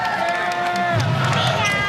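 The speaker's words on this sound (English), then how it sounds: "there is the Kalei Mao cheering section here at the Stan Sheriff Center" A cheering section of local fans at a volleyball match in the Stan Sheriff Center, crowd shouts and cheers swelling in the second half over arena hubbub, with a commentator's voice heard across the clip.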